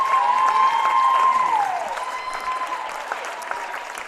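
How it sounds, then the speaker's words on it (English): A standing crowd applauds at a high school girls' volleyball senior night in a gym, with a sustained burst of clapping and cheering that tapers slightly. A high whistle-like tone sounds over the first half. "The OA faithful are standing and applauding this one big accomplishment."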